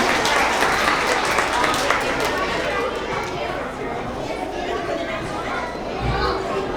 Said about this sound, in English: give all of our second grade growth mindset members another round of applause